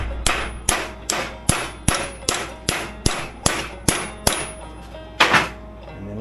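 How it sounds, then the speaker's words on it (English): Hammer striking a universal joint cup, about a dozen sharp metallic clangs in a steady rhythm roughly every half second, close and loud, the last blow heavier. "I'm kind of pushing it with a hammer. I'm giving it a lick."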